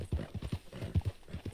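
Horse hooves clip-clop in a quick, steady galloping rhythm in the Red Dead Redemption 2 video game, loud and close with no talk over them.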